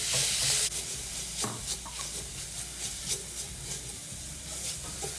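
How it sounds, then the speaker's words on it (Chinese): Minced pork with roughly a 3:7 fat-to-lean mix is stir-fried in a hot pan, giving a steady close sizzle and hiss broken by scraping stirs, louder at the start then settling into continuous frying. "这时候加入220克肉末，这肉末肥瘦比率约3:7，这样的肉末带点油花，拌炒后会散发一股油脂香"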